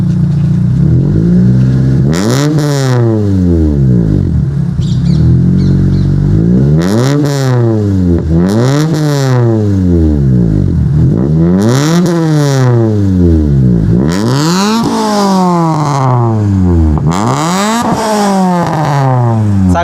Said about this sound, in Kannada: ಫಸ್ಟು ನೀವು ಒಂದ್ಸಿ ಗಾಡಿ ಆನ್ ಮಾಡಿಬಿಡಿ, ಎಕ್ಸಾಸ್ಟ್ ಸೌಂಡ್ ಕೇಳಿಸ್ಕೊಳ್ಳೋಣ. ಹಂಗೆ ರೆವ್ ಮಾಡಿ ಬ್ರೋ ಒಂಚೂರು.